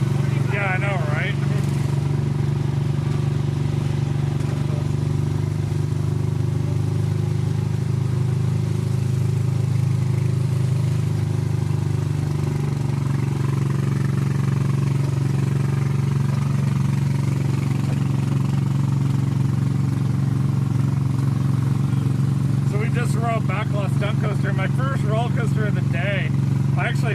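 Car engine droning steadily while driving, a continuous low rumble throughout with people talking inside the vehicle over it.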